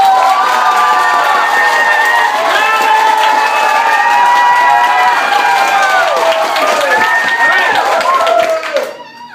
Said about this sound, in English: I need to hear your most energetic, rambunctious, buck wild, lambuki, bootylicious amount of applause you can possibly give.